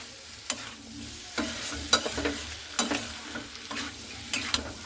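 Spice masala for a jackfruit curry sizzles in hot oil while being stirred, with repeated scraping strokes of the spoon against the pan over a steady frying hiss.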